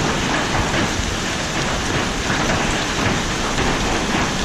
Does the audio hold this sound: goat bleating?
no